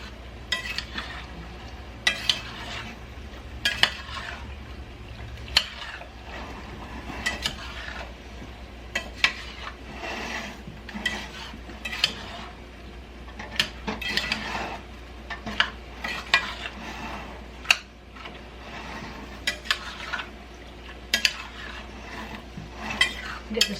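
A spoon stirs pineapple into cooking liquid in a pot, with repeated scraping and clinking strokes against the pan over a steady low simmering hiss, fairly close and with no talking.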